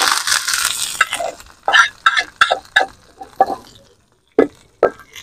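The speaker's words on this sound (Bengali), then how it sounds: "এবারে এটা ভালোভাবে এর মধ্যে ছক দিয়ে দেবো" Hot tempering (chhonk) is poured into a gandharaj lime yogurt dish and stirred in, a sizzling burst followed by a series of sharp clinks and scrapes of a spoon against the bowl.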